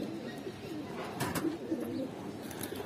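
An Afsan bagha pigeon coos softly and repeatedly at close range, a low burbling call over light background noise.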